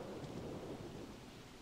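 Thunder rumbling through a rainstorm in the video game Don't Starve, a steady low roar of rain with a long, continuous rolling rumble underneath, fairly quiet and with no voices.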